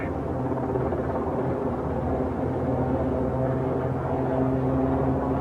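A big military helicopter, of the type hastily converted for airborne early warning, flies at the 1987 Fighter Meet air display at North Weald, giving a steady, loud engine and rotor drone throughout with no talk.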